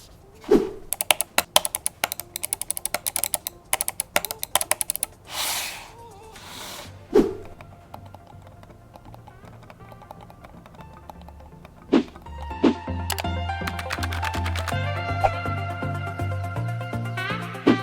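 Several rapid bursts of sharp, loud mouse clicks followed by softer, muffled clicking from a quiet Logitech MX Master 3S mouse, then background music fades in toward the end.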